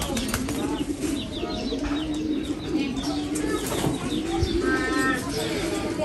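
A racing pigeon that has just trapped after a 350 km race coos softly near a loft, with wing flutters and other birds around and some background voices.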